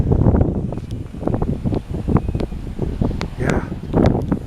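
Stormy wind on Salt Spring Island buffets the microphone in rough, uneven gusts close up, with faint background rustle through the whole stretch.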